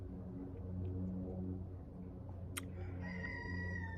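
A rooster crows close by over a steady low hum, with a single sharp tonal call rising in the last second and a half, heard alone with no talking.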